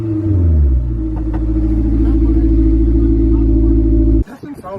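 A car engine with no mufflers revs hard and loud, its deep, raw drone held steady for several seconds before cutting back sharply, heard up close with people talking nearby.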